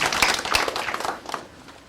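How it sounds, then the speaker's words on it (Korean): Brief scattered clapping from a small audience in a lecture hall, a burst of a few hands that tapers off quickly within two seconds. "선배들 보시기에 강의 잘한다고 생각 박수 한번 쳐보시죠"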